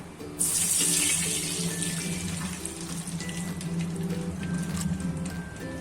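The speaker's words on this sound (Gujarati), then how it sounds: "હવે આપણે વધ્યું છે ઘી, તેમાં આપણે દૂધ ઉમેરી દેશું।" Milk poured into leftover hot ghee in a pan for sabudana kheer, a steady close pouring rush that starts abruptly and then settles into a continuous bubbling sizzle.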